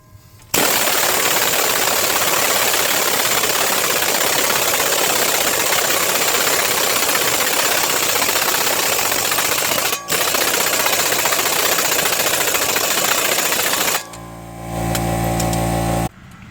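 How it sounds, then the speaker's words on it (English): A pneumatic impact wrench hammers an axle nut tight on a GMC Acadia's driver-side CV axle, a loud continuous rattling burst lasting about fourteen seconds with one brief break, then a short lower mechanical whir at the end. "we'll just hold the one side, the bolt, while we tighten up this nut, and it'll pull those splines back in there"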